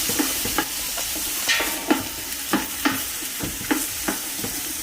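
Chopped onions sweating in bacon grease for collard greens, a bright continuous sizzle broken by regular spatula scrapes and stirs, close and fairly loud, with no voices.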